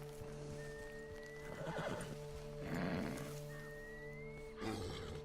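A horse in Red Dead Redemption Online gives two drawn-out neighs over a steady game hum, with soft clip-clop hoof steps between them, no talk.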